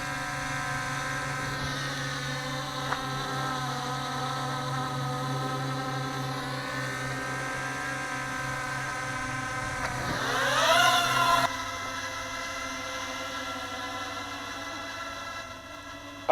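A Zerotech Dobby selfie drone lifts off in auto takeoff mode. Its small propellers make a steady, close buzzing whine, with a brief rise in pitch and intensity as it climbs, then it settles into a steady hover.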